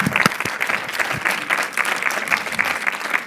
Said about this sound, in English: give Pastor, Brother Clur, a hand clap for him